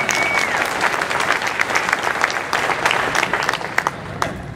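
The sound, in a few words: applause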